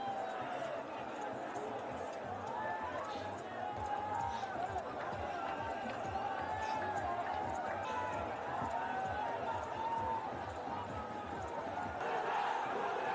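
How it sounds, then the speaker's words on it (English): A crowd hums and cheers continuously at a Bangladesh vs Afghanistan one-day cricket match, a broad steady din with rising swells, and scattered voices stand out from the mass. "the crowd are reaching fever pitch here"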